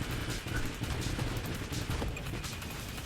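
Missiles fire continuously in the space shooter Nova Drift during an ultra co-op match, a dense rattling barrage of rapid launches and impacts layered over a constant roaring backdrop.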